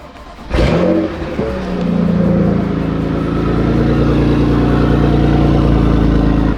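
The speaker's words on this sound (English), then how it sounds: "That beautiful Grail exhaust." A 2005-13 Corvette C6 with a Grail exhaust fires up with a sharp bark, then settles into a deep, loud, steady idle on a cold day, heard close with no talk.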